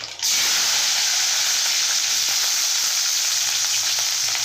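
Onion pieces fry in a pan while preparing a Telugu stuffed onion pulusu. The sizzle is loud, dense and steady, with faint stirring scrapes underneath, and no one speaks.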